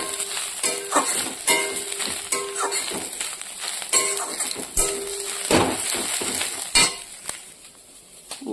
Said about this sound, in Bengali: এবার শাকটাকে একসঙ্গে মিশিয়ে ভেজে নেব।